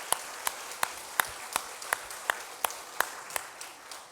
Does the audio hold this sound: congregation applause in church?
yes